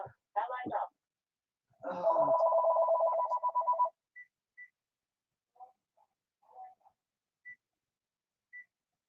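A phone rings indoors: a short ringtone burst, then a longer sustained tonal ring, followed by a few sparse faint beeps in near silence.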